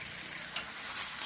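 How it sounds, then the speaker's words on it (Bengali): Chicken fries with spices in a wok, giving a soft, steady sizzling hiss with one brief crackle, faint and close, with no voices. "ভালো করে কষিয়ে নিচ্ছি আমি মাংসটা।"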